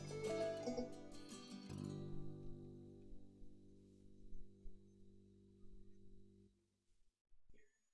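Rhythm track routed through a Freeverb reverb bus in Reaper: a quiet strummed, chordy passage with soft sustained tones ringing out and a reverberant tail, ending with faint clicks.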